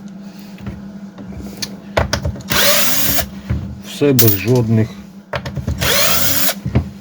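A ratchet with a 10 mm socket works the fasteners of a Stihl BG 50 handheld blower being taken apart. Two loud bursts of rapid clicking come close up, separated by handling knocks and someone speaking.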